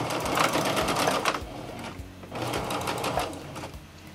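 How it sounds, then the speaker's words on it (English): A sewing machine stitching forward and back on a T-shirt, whirring in two fast bursts of rapid rhythmic needle clatter with a short slowdown between them, close and loud. "I'm going to go forward and back a couple of times in order to create a knot."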